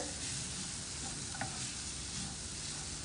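Flattened rice being stirred in a hot pan, a short even sizzling hiss with a faint scrape of the spoon partway through.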